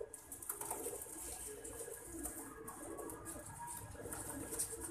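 Soft, low pigeon cooing murmurs steadily against a faint, busy background hiss, fairly distant and quiet throughout.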